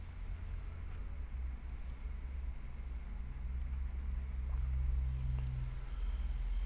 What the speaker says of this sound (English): And the fires have been put out by the rain.